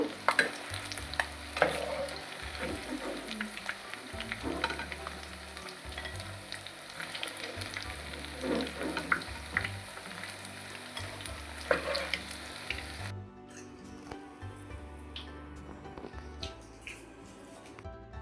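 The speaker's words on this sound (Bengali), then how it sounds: "পনিরগুলো এইভাবে লাল লাল করে ভেজে নিয়েছি" Paneer frying in hot oil for chilli paneer sizzles steadily, with frequent clinks and scrapes of stirring over about thirteen seconds, then quietens to a softer crackle with no talk.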